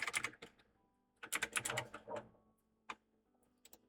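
Clicks from a computer keyboard during a bookkeeping session: quick irregular bursts of keystrokes, close and fairly quiet, with short pauses between runs and a few isolated taps.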